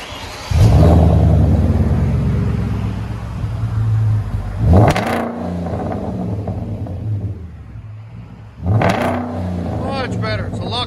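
Hyundai Genesis engine and exhaust with the resonator kept on, heard from inside the cabin as loud revs that surge and fall back to a steady rumble, under speech.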